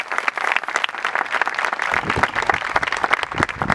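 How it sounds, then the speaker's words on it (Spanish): An audience at a public gathering breaks into brisk applause: many hands clapping closely together in a lively, slightly uneven burst lasting a few seconds. "por los que pido un aplauso"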